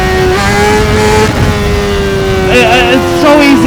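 A Honda CBR600RR sport bike engine revs hard and loud at close range for a power wheelie, holding a high, strained drone before climbing sharply near the end.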